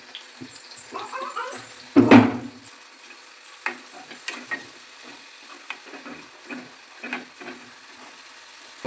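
Onions frying in oil in a small pan give a soft, steady sizzle with light stirring and scraping, plus one louder spitting burst early on.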